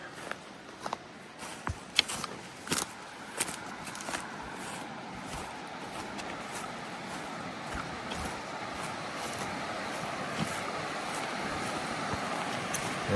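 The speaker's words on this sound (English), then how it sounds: "this river, or creek's running very fast compared to what it normally would run" Racehorse Creek near Crowsnest, Alberta, swollen and running fast with spring snowmelt runoff, gives a loud, steady broadband rush of water throughout, with a few sharp footstep-like clicks in the first few seconds.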